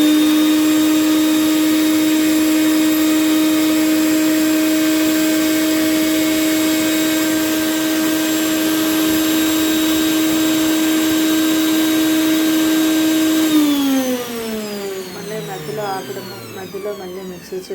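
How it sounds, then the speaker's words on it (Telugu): A kitchen mixer grinder whirs loudly and steadily while grinding coconut pieces for sweets, its motor tone holding even for a long stretch before winding down and dropping in pitch as it stops. "మధ్యలో మళ్ళీ మిక్సీ చేయడం, మధ్యలో ఆపడం, మళ్ళీ మిక్సీ చేయడము చేసుకోవాలండి"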